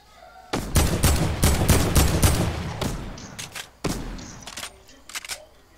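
Rapid bursts of gunfire in the video game Fortnite crackle in dense volleys, then break into scattered shots, loud and close.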